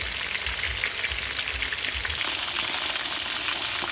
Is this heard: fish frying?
yes